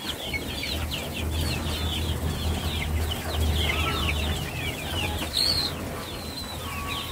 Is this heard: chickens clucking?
yes